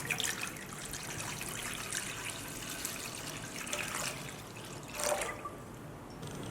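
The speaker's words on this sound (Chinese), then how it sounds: "把皮放入锅内，加入1000毫升的清水煮制。" Water running steadily into a pot holding peach peels, about a litre of plain water for boiling, with a quiet continuous trickle and splash at close range.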